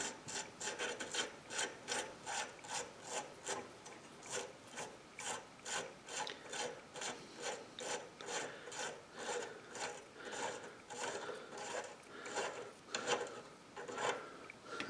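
Sturmey Archer hub parts being scrubbed clean by hand during a restoration, a steady rhythmic rasping and rubbing that repeats about twice a second, close and moderately loud with no talking.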